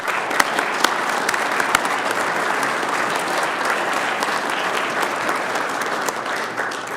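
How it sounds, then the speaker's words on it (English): A crowd at a Boy Scout troop's Eagle Court of Honor applauds the Eagle Scouts' parents with sustained, even clapping, with a few sharper individual claps standing out near the start. "They deserve a round of applause, please."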